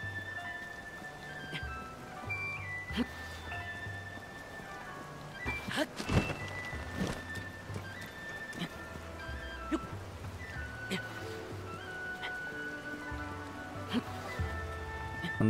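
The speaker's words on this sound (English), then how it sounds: "Rain." Rain in The Legend of Zelda: Tears of the Kingdom patters steadily as a soft background wash, with scattered drip-like taps and a low musical tone underneath, no voices.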